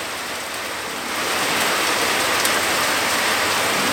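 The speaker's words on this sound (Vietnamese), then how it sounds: "bây giờ đang mưa rất to luôn đó" Heavy rain pours down in a dense, even hiss that swells louder after the first second and keeps steady to the end, with no voices.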